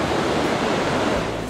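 Huge ocean waves crash on the rocky coast of South Africa's Otter Trail, a loud, continuous roar of surf heard close by with no voices.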